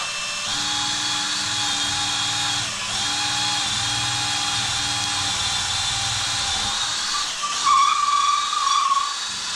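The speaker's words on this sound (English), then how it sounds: "This is just a pilot hole so we know." Power drill boring a pilot hole up through a roof into the rafter space, a steady high whining hiss that holds for several seconds, briefly drops off, then rises again louder near the end.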